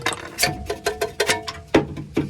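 Metal clicks and clunks in an uneven series as a front control arm on a Honda Pilot is pried out with a fork, close up, with bright ringing taps between them.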